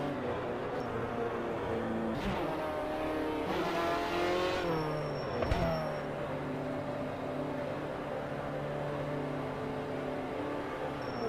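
Race car in a racing video game at Road Atlanta, slowing as it enters the pit lane on lap 20 with worn tires; a steady engine drone with shifting revs and a brief squeal-like burst midway, no talking.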